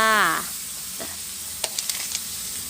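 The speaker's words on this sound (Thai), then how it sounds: "พอเราผัดจนเครื่องในไก่ของเราสุกแบบนี้" Chicken giblets stir-fried in a hot pan give a steady, close sizzle with scattered light clicks of a spatula, after a brief whistling tone at the very start.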